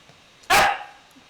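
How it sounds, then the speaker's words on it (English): A single loud, sharp dog bark from the video game Genshin Impact, close and abrupt with a short fading tail, standing alone over faint background game ambience. "What's that barking for?"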